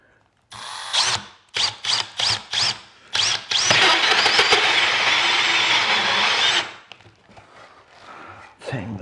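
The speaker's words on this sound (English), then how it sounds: "we'll drill these ones all the way through" A power drill whirs in several short bursts, then runs in one long, loud sustained grind drilling all the way through wood for a wood duck box before stopping.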